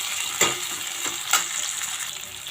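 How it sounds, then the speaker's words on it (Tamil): Onions sauté in a pan while cooking a fenugreek curry, giving a steady close sizzle and frying hiss with two brief louder stirring scrapes. "வெங்காயம் நல்லா வதங்கட்டும்."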